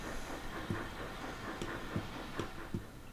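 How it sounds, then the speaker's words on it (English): A train rolling through a station junction in Transport Fever 2, steady rumble with rhythmic clicks of wheels over rail joints, moderately quiet and without talking. "We'll just let that train get out of the way."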